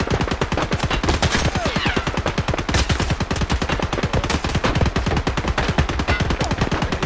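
Sustained automatic gunfire in Escape From Tarkov: rapid, loud, continuous bursts of shots repeat throughout, with no talking.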